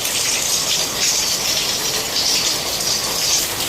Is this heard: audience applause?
no